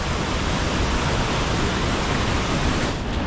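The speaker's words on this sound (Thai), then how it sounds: "เป็นหินปูนนะ น้ำตกหินปูน" Water pours steadily over a tiered limestone waterfall, a dense, continuous rushing wash with no breaks and no voices.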